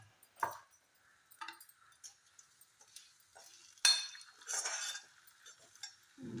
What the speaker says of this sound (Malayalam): ഈ എരിശ്ശേരിനെ ഇതിലേക്ക് ഇട്ടിട്ട് നമുക്ക് നന്നായി ഇളക്കി കൊടുക്കാം